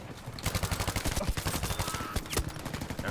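Rapid automatic gunfire in Battlefield 5, a steady stream of sharp shots at close range with heavier cracks mixed in and no talk over it.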